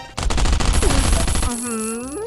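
A rapid, loud burst of automatic gunfire in the survival game Last Island Survival lasts about a second and a half, then gives way to a brief voiced exclamation.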